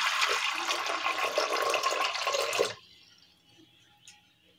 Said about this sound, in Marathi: त्यामध्ये शिजण्यासाठी पाणी ओतायचं.